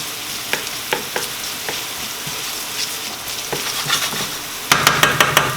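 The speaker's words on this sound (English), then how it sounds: "this has been sauteing for about a minute" Onions and garlic sizzle in olive oil in a pan, a steady close frying hiss with occasional light clicks, then a burst of quick tapping strikes near the end.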